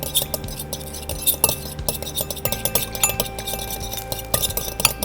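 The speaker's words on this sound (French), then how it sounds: "je vais ajouter mon huile en filet. Mais ce qui est important, c'est de bien mélanger" Olive oil is drizzled into a dressing and whisked in a bowl, giving a rapid, steady run of close clinks and taps of utensil on bowl, with no talk.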